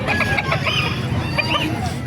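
Chickens cluck over a busy background of crowd babble at a fowl market in Calumpit, Bulacan, where roosters and hens are for sale; several birds call in short, scattered bursts, fairly near, with people talking around them.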